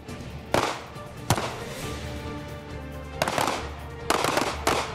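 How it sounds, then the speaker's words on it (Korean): Gunfire rings out during counter-terror unit shooting training as shooters turn to engage targets: several sharp, loud single shots spaced irregularly over steady background noise. "몸의 방향을 바꿔가며 목표물을 향해 사격을 합니다."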